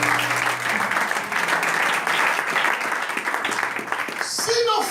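A church congregation at a French-language sermon claps and cheers in praise, a dense, steady wash of applause filling the room for several seconds with voices mixed in.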